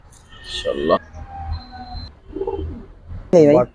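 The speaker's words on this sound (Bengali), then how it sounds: "দর্শক দেখতে পারেন সুন্দর সবুজ গুলো কবুতর আপনারা যারা স্টাইলিশ কবুতর" Giribaz Silver pigeons cooing in a loft, with short throaty warbling coos at the start and a louder, close coo at the end, amid low background noise.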